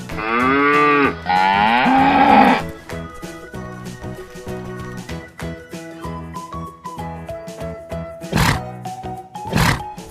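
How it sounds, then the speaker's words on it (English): A cow moos twice in long, loud, close calls over a cheerful children's backing tune with jingling notes, which carries on alone afterward with a couple of sharp bursts. "Cow."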